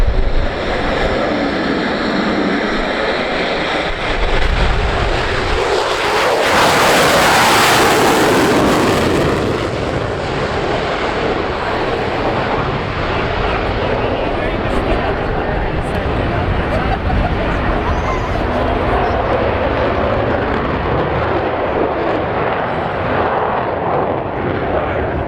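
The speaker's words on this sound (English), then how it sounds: "Super Hornet." An F-18 Super Hornet jet flying aerobatics at the 2017 Avalon air show: a loud, sustained roaring jet engine that surges to a peak as it passes, continuing as a heavy rumble, with crowd or announcer voices underneath.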